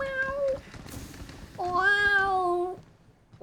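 A person imitates a cat with a loud, drawn-out human meow: one short call, then a longer, stronger one with clear harmonics. Faint background noise sits underneath, and no words are spoken.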